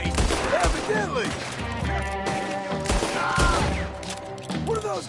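Gunfire in Red Dead Redemption 2 rings out as a dense, loud fusillade, with rapid overlapping shots amid the game's other sound. A game voice seems to be present but is hard to pick out.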